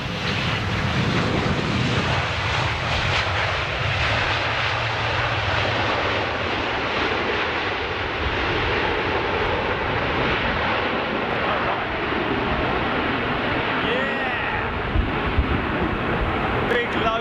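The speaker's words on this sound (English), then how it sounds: "Big load of American reverser there." An American jet airliner lands with thrust reversers deployed, making a loud, sustained engine roar with wind buffeting the microphone throughout and no clear speech.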